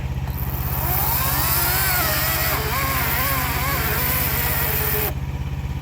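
A battery-powered chainsaw whirs steadily up close with a buzzing drone, its pitch wavering as it cuts, then stops abruptly near the end.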